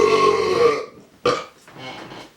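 A single loud, drawn-out burp opens the clip, followed by a sharp short burst and a softer rumbling tail, with no talking.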